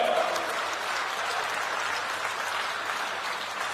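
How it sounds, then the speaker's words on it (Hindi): A crowd at a political road show rally in Jodhpur breaks into steady, sustained applause, a dense wash of clapping heard from a distance throughout. "जोरदार तालियां बजा करके स्वागत कीजिए।"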